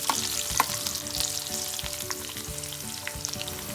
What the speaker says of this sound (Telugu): మనం కట్ చేసుకున్న పచ్చిమిర్చి వేసుకున్నాను కొద్దిగా నూనెలో వేయాలంటే